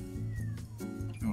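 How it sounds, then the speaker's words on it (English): A cat gives a short, drawn-out meow, close and fairly clear, over a steady low background hum. "You're going to hear him meow anyway"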